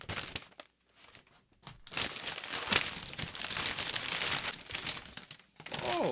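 Packing paper crinkles and crumples close up while Tour Edge golf clubs are unboxed, in loud bursts of rustling and crushing separated by brief pauses.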